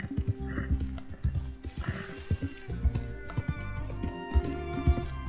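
A horse in the video game Red Dead Redemption 2 gallops with rhythmic, close hoofbeats thudding steadily over a low ambient bed, with no speech.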